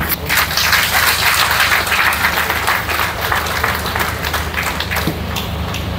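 An audience at a public outreach event on a new draft constitution applauds after a speech, a loud, dense burst of many clapping hands that holds steady, then eases slightly toward the end.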